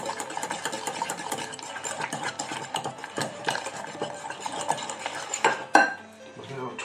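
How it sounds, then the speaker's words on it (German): Piping gel being stirred in a pot as it thickens, a continuous busy clatter of a utensil against the pot with rapid scraping strokes, close and steady, ending in a louder knock. "Jetzt rühren wir das noch ein bisschen."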